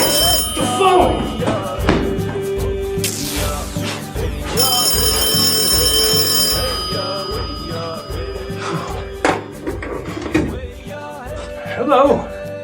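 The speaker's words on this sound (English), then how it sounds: "The phone!" A telephone rings in a horror adventure game, repeated electronic ring bursts layered over a dense, loud game score, with no talk over it.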